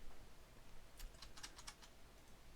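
Faint, light clicks of someone typing on a computer keyboard while writing Arduino C++ code, a short burst of a few keystrokes against a quiet background hiss.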